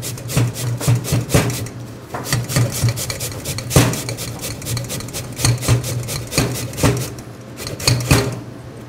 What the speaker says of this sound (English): We use a fine grater on the fine side,